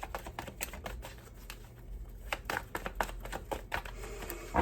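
A deck of tarot cards riffled and shuffled in quick crackling bursts, close and fairly quiet, with a short pause partway through.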